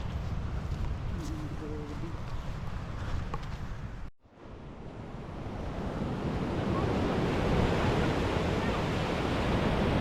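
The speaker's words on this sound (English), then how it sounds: "Headed for the beach." Surf breaking on a jagged, rocky stretch of the New South Wales coast, a steady broadband wash that swells louder after a brief dropout, with wind buffeting the microphone throughout.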